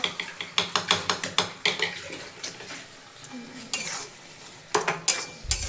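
Dal is stirred in a metal cooking pot, the spoon scraping and clanking against the sides in a quick run of sharp, close strikes that slows to a few scattered knocks.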